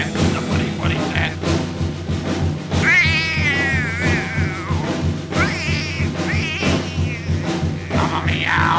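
A cat meows repeatedly, loud and close, with drawn-out, wavering cries over a steady background hum.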